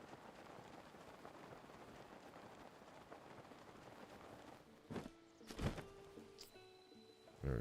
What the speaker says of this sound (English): I hate that it's raining though.